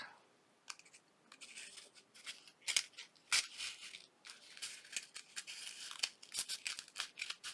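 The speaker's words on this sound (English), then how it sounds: "I actually got to have some scissors to cut it" Close, quiet snips and crunches of scissors cutting through material, irregular clusters of sharp cuts with short pauses between them.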